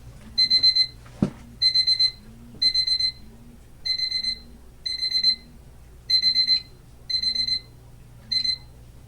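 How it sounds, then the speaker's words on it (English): A bedside alarm clock beeps in repeated short bursts, about ten evenly spaced pulses with high pitch, loud and close, with a brief knock partway through. "An alarm that I don't even need anymore."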